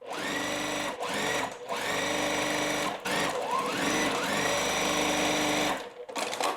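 A sewing machine stitches a quilt block in several loud, close bursts of rapid whirring, each run stopping briefly before starting again.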